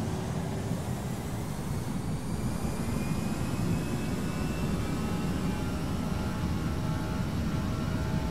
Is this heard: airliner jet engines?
yes